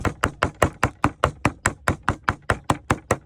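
Herbs and lemongrass are chopped with a knife on a board for a Thai pounded dish, giving a steady, rapid run of sharp, evenly spaced thuds, about five per second, close and loud without talk.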